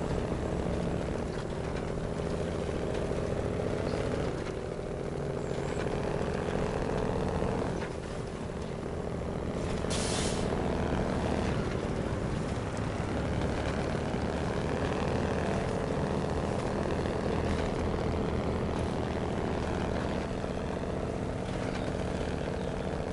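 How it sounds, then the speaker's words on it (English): A heavy off-road truck with big tires in the video game SnowRunner, driving through muddy terrain, its engine giving a loud, continuous droning rumble that barely changes for the whole stretch, with no voices. "And I really love the sound of this truck."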